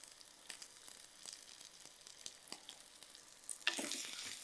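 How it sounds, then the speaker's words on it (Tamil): Onions sautéing with salt in a pan give a quiet, close sizzle with light scraping strokes of a spatula, rising to a brighter, louder hiss in the last second. "3லேருந்து 4 நிமிஷம் அப்படியே நல்லா வதக்கி எடுத்துக்கோங்க"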